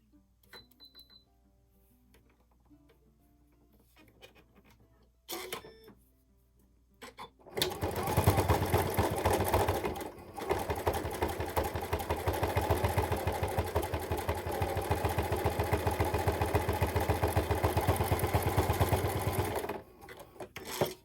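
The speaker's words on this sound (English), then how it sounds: "we're just going to do a zigzag stitch across that just to hold it right there" Sewing machine zigzag stitching across the overlapped fabric of a small handmade needle book: a few short stops and starts, then a steady loud mechanical whirring run of about twelve seconds before it halts.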